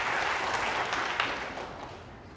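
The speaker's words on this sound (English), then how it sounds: "he gets some applause" Steady applause from a snooker crowd at a world championship match, dense and continuous, slowly fading toward the end.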